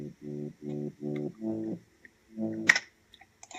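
Sub bass synth from two Silent presets playing short, evenly spaced sustained notes in a rhythmic pattern, then a pause and a few more notes, with some light clicks near the end.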